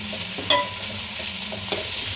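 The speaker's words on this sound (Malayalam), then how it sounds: "ഇനി കഴുകി വൃത്തിയാക്കി വെച്ചിരിക്കുന്ന ബീഫ് ചേർത്ത് കൊടുക്കാം. ചേർത്ത് കൊടുത്തതിന് ശേഷം ഒന്ന് ഇളക്കി കൊടുക്കാം." Washed beef stirred in a pan for a Kerala beef curry, a soft scraping stir with a faint sizzle and two brief spoon knocks against the pan, no voices.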